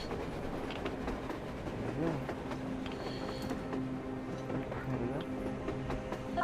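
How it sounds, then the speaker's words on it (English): In the Metro Exodus game, a train rolls past on the surface with steady rumbling and clickety-clack rail rhythm at moderate distance, continuous for several seconds with faint voices in the background. "A damn train on the surface!"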